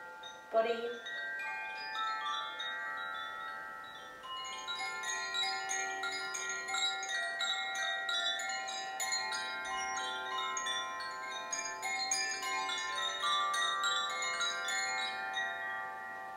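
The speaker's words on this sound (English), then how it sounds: "As soon as you hear the bell, bring yourself up to a seated position." A bell rings out at the close of a prenatal yoga relaxation, struck once and left to sustain with a long shimmering ring that slowly fades in a quiet room.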